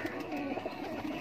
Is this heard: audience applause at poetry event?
no